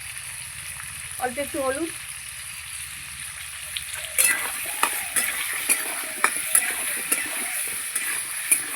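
Onion and potato frying together in a pan with turmeric going in, a quiet sizzle under a brief spoken phrase that becomes a louder crackling fry with repeated stirring scrapes and clinks, close by.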